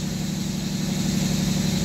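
A 2022 Audi RSQ8 engine runs at a steady idle, a close, continuous low hum with a faint vibrating throb and no voices.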